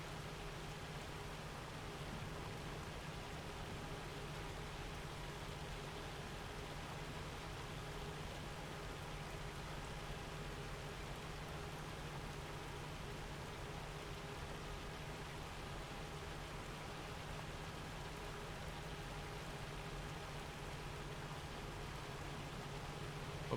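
Steady, dense rain hiss in a Farming Simulator 25 farm scene in Pallegney, France, a continuous even wash of falling rain with no talk, holding at a constant level throughout.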